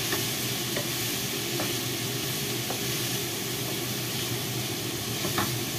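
Carrot strips sautéing in a pan, a steady close sizzle with occasional faint stirring taps, continuous and even throughout.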